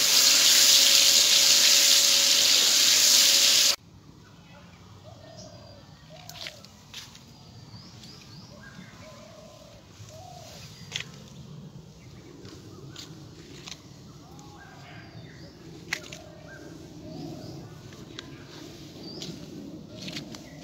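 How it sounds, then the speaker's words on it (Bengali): Eggs fry lightly in hot oil for an egg korma, starting with a few seconds of loud hissing, then dropping to a faint, quiet bed dotted with small scattered pops and crackles. "এবারে এই তেলের ভিতরে আমি ডিমগুলোকে ভেজে নেব।"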